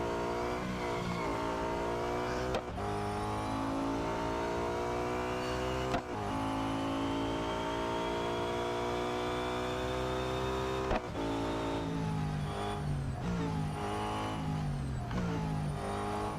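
The Nissan R390 GT1 race car in the Real Racing 3 mobile game revs continuously, its engine note climbing through the gears with three sharp shift breaks, loud and alone without talk.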